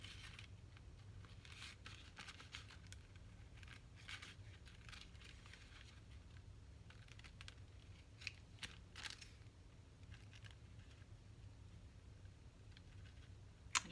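Scissors snipping paper or a thin napkin at a craft table while making a junk journal; a quiet series of short, crisp cuts close by, with no talking.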